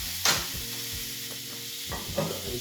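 Steak sizzling in a hot pan, a steady close crackle of fat with a few sharper spits and pops rising out of it, no voices.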